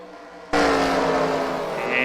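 Race cars leave the green flag for a heat race at Knoxville Raceway, the engine roar jumping in suddenly and holding loud and steady as the field accelerates, with an announcer talking over it.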